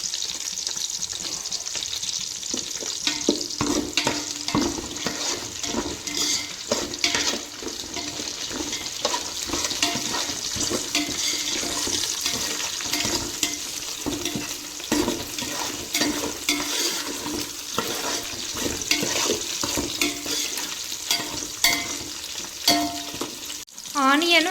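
Onions frying in a pan with curry leaves for chicken biryani, a steady close sizzle with stirring scrapes throughout, alone with no talk.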